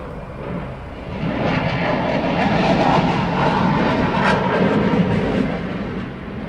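An F-18 fighter jet roars steadily overhead at an air show, a broad loud engine rush that swells and holds without a break.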